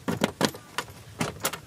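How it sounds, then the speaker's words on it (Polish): A key rattles and clicks in the lock of a scooter's under-seat storage, several short metallic bursts in a quick irregular rhythm, close and fairly quiet. "Kluczykiem się otwiera, nie?"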